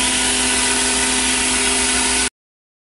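A CNC machine mills aircraft door skins for a Raptor aircraft: a loud, steady, close mechanical whine with a sustained broadband roar and humming tones runs evenly, then cuts off abruptly, with no voices.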